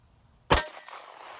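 A single sharp Glock 26 pistol shot at a shooting range cracks out loud and close, followed by a brief ringing decay and faint background noise.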